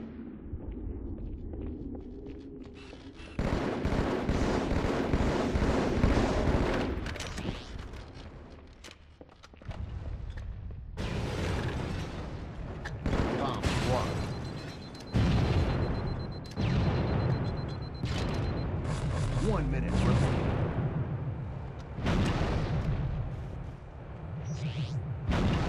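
Repeated heavy blasts and rumbling booms from a Halo Master Chief Collection bomb drop, dense and loud across the whole stretch with whooshing and scattered gunfire between impacts.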